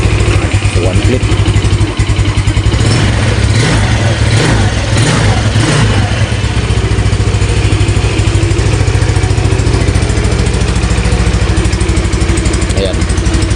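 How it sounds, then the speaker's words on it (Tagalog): A Yamaha Mio Sporty scooter, just reassembled, runs after a kick start with a loud, close engine drone that holds steady at idle throughout, buzzing and slightly uneven. "So po pwede na nating ma-kick yung ating Mio Sporty. So kick lang natin."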